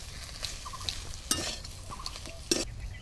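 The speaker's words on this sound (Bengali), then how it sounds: "কুচো দিয়ে একসাথে মশলার সাথে ভালো করে নাড়াচাড়া করে মিশিয়ে নেব" A spiced tomato chop filling with chopped coriander is stirred and mixed in a pan, faint low sizzling with a few sharp scrapes and clinks of the spatula against the metal.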